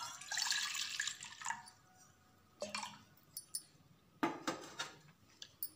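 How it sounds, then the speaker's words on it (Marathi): Milk poured from a container into a metal pot in a home kitchen for chocolate ice cream, a soft liquid splash and trickle in short bursts with clinks of the vessel between pours, fairly quiet and close. "या पातेल्यामध्ये आता आपण हे दूध घेणार आहोत"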